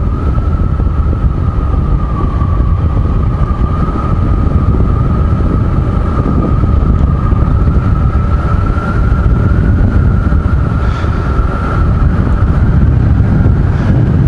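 Steady wind roar buffets the microphone on a motorcycle ride, loud and continuous throughout, with a faint engine hum underneath.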